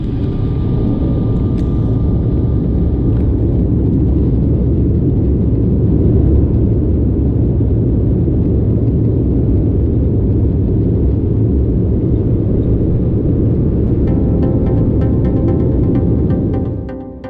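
A BA CityFlyer airliner takes off from runway 14 at Leeds, heard from inside the cabin as a loud, steady, deep engine roar and rumble that holds throughout.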